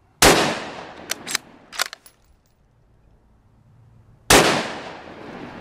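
A .223 Ruger American Predator bolt-action rifle fires two loud, sharp close shots several seconds apart, with metallic clicks and rattles of the bolt being worked in between, outdoors.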